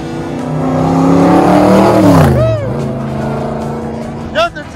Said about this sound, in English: Nothing sounds like them Cobras.